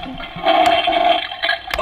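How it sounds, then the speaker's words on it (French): Short toilet flush sound effect from a Flush Force toy, a brief electronic rushing-water whoosh that swells after a quarter second and holds steady, with a small click near the end. "ça fait bien le bruit de chasse d'eau"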